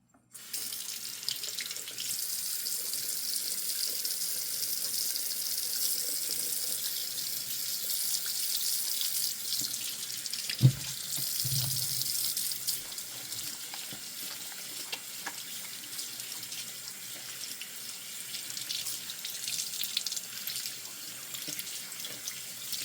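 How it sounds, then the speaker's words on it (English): Water runs steadily from a tap for a quick wash of a broken fingernail, a continuous hiss with a brief splash and knock partway through, with no talking. "I'm going to give it a quick wash"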